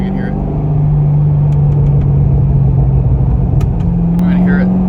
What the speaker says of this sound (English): Burbles on deceleration, the factory burbles are ridiculous.